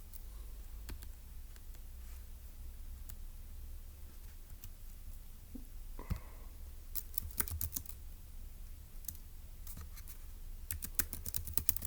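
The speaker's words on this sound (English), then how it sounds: "So let's go ahead and type that up in section D." Keys clatter on a computer keyboard in quick irregular bursts, light clicks against a quiet low room hum, faint and close, with no one speaking.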